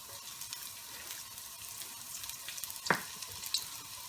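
Minced garlic frying in hot sesame oil over high heat, giving a steady close sizzle and crackle with one sharp clack partway through.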